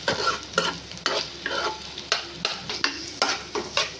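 Slit green chillies fry in hot oil for a chicken fry dish, a dense close sizzle punctuated by repeated stirring scrapes at a steady pace.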